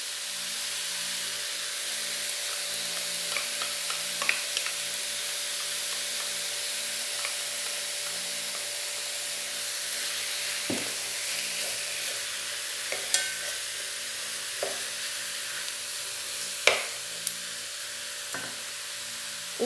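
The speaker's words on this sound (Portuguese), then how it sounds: "Vamos colocar agora uma cebola pequena," A small chopped onion fries in a pan for a baked nest pasta dish, a steady close sizzle with intermittent sharp clicks and scrapes of stirring against the pan, and no talking.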